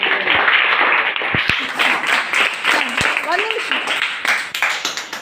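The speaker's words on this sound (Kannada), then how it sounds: "ಜೋರಾನ ಚಪ್ಪಾಳೆ" Students at a school science programme clap loudly, a sustained burst of applause with voices talking and calling out over it.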